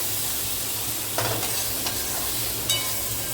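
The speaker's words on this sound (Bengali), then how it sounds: "তো চলো মশলাটাকেও কষিয়ে নিই।" Spice paste sautés in a pan with a soft, steady sizzle, and a few brief scraping strokes of stirring break in, close and quiet, with nobody talking.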